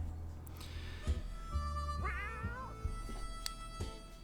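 A cat meows in the survival game 60 Seconds, sounding from outside a fallout shelter with several drawn-out wavering cries over a low steady hum and a few soft knocks.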